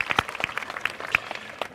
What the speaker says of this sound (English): clap as much as you want.